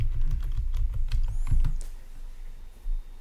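A computer keyboard being typed on in a quick run of light clicks, ending with a sharper, heavier keystroke for Enter, close and fairly quiet with no voices.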